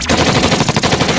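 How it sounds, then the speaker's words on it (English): A rapid burst of gunfire rattles out as a sound effect, a loud, evenly spaced string of shots about a dozen strong with no pause, close and alone. "shooting gun."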